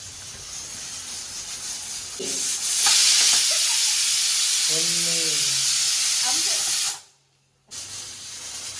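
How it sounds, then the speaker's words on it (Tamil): A pressure cooker cooking chicken biryani in a village kitchen hisses steadily with loud spraying steam, while voices talk over it before the sound briefly cuts out. "சவுண்ட் வருது, இன்னும் விசில் வரலையா?"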